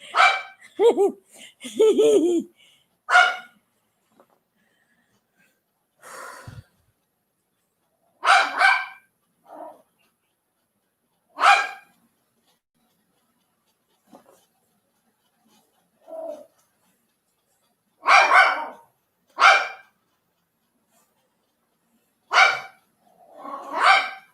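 A dog barking indoors in short separate bursts, a few loud barks spaced irregularly across the clip with quiet gaps between, and a brief voice at the start.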